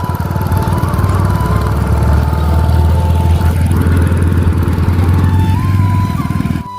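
A Hero Splendor motorcycle towing an attached trolley runs its engine loud and close in a steady, rapid chugging putter that holds without a break, with no talking.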